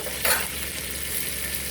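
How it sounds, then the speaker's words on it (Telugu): Dried red chillies frying in hot oil for tomato rasam, a steady close sizzle with a brief louder crackle near the start. "రెండు ఎండు మిరపకాయలు వేసుకొని అట్లా ఇది కొంచెం వేగిన తర్వాత"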